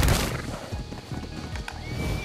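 Horse in the video game Ark Ragnarok neighing near the start, followed by clip-clopping hoofbeats across a redwood forest area, fairly faint under the game's ambient sound.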